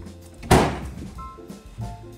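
A Peterbilt medium-duty truck cab door shutting with a single loud, solid thunk up close, followed by quieter mechanical clicks and faint background sounds.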